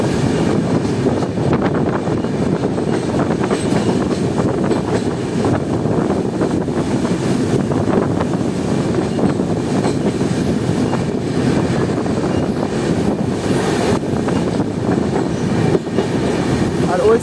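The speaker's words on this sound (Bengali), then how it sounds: "রাতেরবেলা তোমরা দেখতে পাচ্ছ যে ফারাক্কা ব্যারেজ ক্রস করছে আমাদের ট্রেন" The Uttarbanga Express rumbles steadily across the Farakka Barrage at night, a loud, continuous rolling roar with faint rhythmic clatter of wheels, heard from inside the train.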